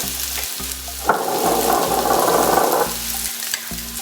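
Dry masala spices fry and sizzle in a pan for a Nepalese vegetable momo filling, with a loud sustained sizzle in the middle and quieter stretches of background hum around it.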